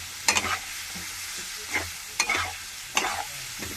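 Spiced rohu fish and green banana being sautéed in a pan for a light curry, a soft sizzle under several bursts of stirring and scraping, no talking.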